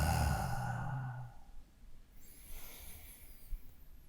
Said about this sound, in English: if I slow down and take a few deep breaths with her